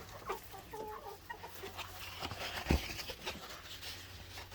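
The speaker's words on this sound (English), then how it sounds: "Then we got some chickens." Chickens in a farmyard with turkeys, giving soft scattered clucks at moderate distance against low background noise, with one brief louder thump partway through.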